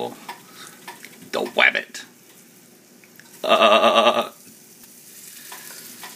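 Flour-dredged rabbit pieces sizzle in frothing butter in a pan, with a burst of loud frying at the midpoint and brief clatter earlier, under a short snippet of speech.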